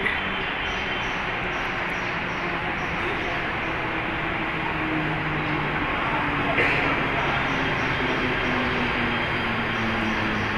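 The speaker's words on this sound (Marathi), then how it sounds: "आली ट्रेन आली ट्रेन आली" A train rumbles in with a low, continuous roar that swells slightly, while voices talk over the noise.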